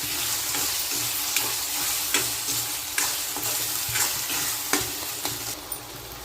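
Tomatoes sautéing in a pan with cooked ginger-garlic paste for a carrot and green peas curry, with a steady loud sizzle and repeated sharp stirring scrapes of a spoon against the pan.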